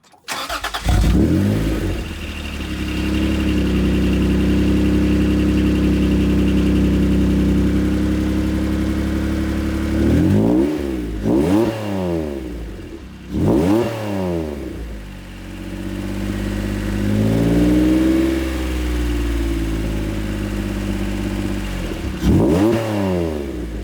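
A Honda NSX fitted with an ARK Performance exhaust, recorded near the tailpipes, fires up and settles into a deep steady idle, then several sharp revs climb and fall in sweeping bursts before returning to idle, loud and close.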